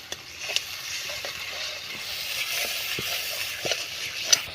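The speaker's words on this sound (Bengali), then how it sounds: "এবারে কড়াইতে তেল দিয়ে লঙ্কার গুঁড়ো দিয়ে দিলাম, হলুদ গুঁড়ো দিয়ে দিলাম।" Chili and turmeric powder fry in oil in a wok with a soft, steady sizzle, broken by occasional stirring clicks and taps.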